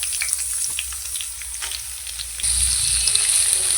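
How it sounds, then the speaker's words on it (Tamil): Chopped onions dropped into hot oil with dried red chillies and curry leaves for a Madurai brinjal curry, a bright close sizzle that swells suddenly louder partway through, with light stirring clatter. "இப்போ நறுக்கி வச்சு வெங்காயத்தை போட்டுக்கலாம்."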